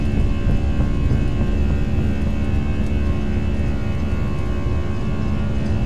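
Airbus A320 jet engines at takeoff power in the X-Plane 11 flight simulator, a steady loud roar with sustained tonal whine, constant and unbroken throughout with no voices.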